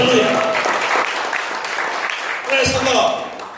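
A church congregation claps together during a worship service, steady broadband applause that swells again near the end, mixed with shouted voices and some singing or calls over it.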